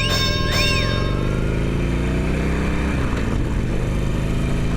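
A 2020 Harley-Davidson Iron 1200 motorcycle on a test ride, its engine rumbling steadily and close with constant wind rush, a faint tonal chirp early on.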